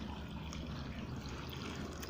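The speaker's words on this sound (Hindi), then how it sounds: "अब डालेंगे ऊपर पानी, उबला और ठंडा किया हुआ।" Boiled water, cooled to room temperature, poured over cut vegetables in a container for Sindhi pickle, a steady close trickle running continuously and alone.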